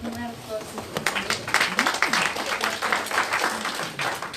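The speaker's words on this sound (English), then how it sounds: "Let's give them a round of applause." Audience at a community organisations event applauding, a dense patter of clapping that builds after a second and carries on steadily, with some talk over it.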